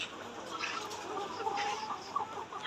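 Many layer pullet chickens in a shed cluck and murmur together at moderate distance, a busy, continuous flock chatter with occasional louder calls.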